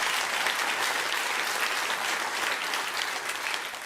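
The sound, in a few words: audience clapping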